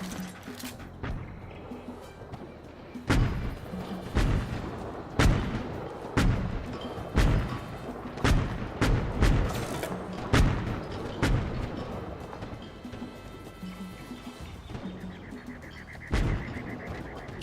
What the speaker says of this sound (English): See, our tanks facing off against them. Their tanks.